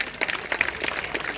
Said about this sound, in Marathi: प्रेक्षक हो, पाडगाव संघाचा देखावा जर तुम्हाला आवडला असेल तर एकदा खडखडीत टाळ्या वाजू द्या